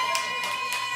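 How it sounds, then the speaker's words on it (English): Three sparse, separate claps from a couple of audience members at a comedy show's crowd-work segment, evenly spaced and set against a steady electronic hum. "Only 2 people clapped"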